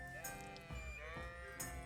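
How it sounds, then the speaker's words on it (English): Sheep bleating at a sheepfold in the medieval game Kingdom Come: Deliverance, a few wavering calls rising over a steady low ambient hum, close and moderately loud. "Right, we're at the sheepfold."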